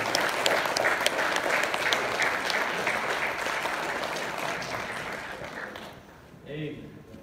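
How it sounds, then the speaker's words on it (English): A church congregation applauds after a performance during a Sunday service, giving sustained, dense clapping that fills most of the clip and fades toward the end, where a voice is briefly heard. "Let's give them another round of applause as we get back to the seat."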